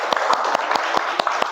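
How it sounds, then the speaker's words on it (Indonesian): A class of students applauds itself during a mathematics lesson. Regular, sharp claps ring out about every fifth of a second, close and distinct, over a constant background hum. "Tepuk tangan untuk diri kita sendiri."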